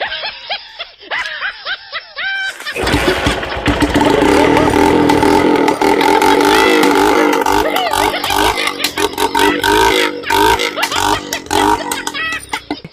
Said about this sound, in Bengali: কেমন সাউন্ডটা আমার বাইকে?